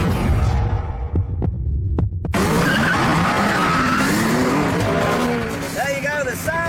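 A 5.4-litre V8 and a 6.5-litre V12 supercar race side by side on a test track, engines roaring loudly and close, revving and shifting through gears with tyre squeal and a broad throbbing drone.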